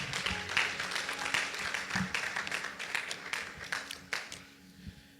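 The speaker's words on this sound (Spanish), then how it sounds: "Le damos un fuerte aplauso al Señor." Church congregation clapping during a service, a dense round of many hands with distinct sharper claps standing out, fairly close and lively, tapering off toward the end.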